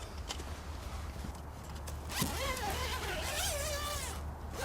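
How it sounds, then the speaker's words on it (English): Zips being undone on a weather cover during decking repair work, a quiet rasping zipper pull heard close up after a few faint rustles and clicks, with no talk. "And zips to unzip."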